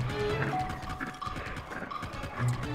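Horse hooves clip-clopping in the video game Zelda: Tears of the Kingdom, a steady galloping rhythm at moderate loudness over game background sounds, with an occasional whinny.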